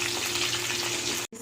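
Marinated paneer kebab fries in hot oil in a pan, giving off a steady, close, bright sizzle that cuts off abruptly just before the end.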